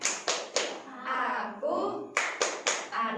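Schoolchildren in an Indonesian classroom clapping the 'tepuk anak soleh' rhythm, sharp close hand claps in a quick patterned sequence with chanting voices between the beats.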